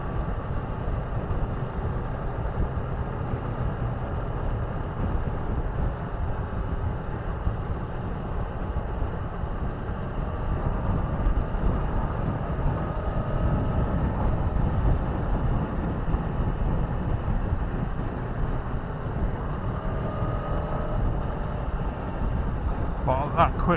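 Steady drone of a sporty naked motorcycle engine while riding, with a Street Triple RS, 1050 Speed RS, 1290 Superduke or V4 Tuono Factory, heard with wind rush and a rider talking over it.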